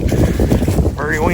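Strong wind gusting across a wooded ridge top with mountain laurel in late fall, a loud, constant rushing roar buffeting close to the microphone, with a brief whistling tone near the end.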